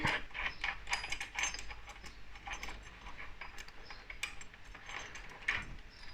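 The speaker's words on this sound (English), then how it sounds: "Get this front sprocket nut off and the front sprocket off as well." A hand ratchet loosens the front sprocket nut on a motorcycle at a workbench, giving rapid repeated clicking pawl bursts in quick runs, fairly faint and close, with no voices.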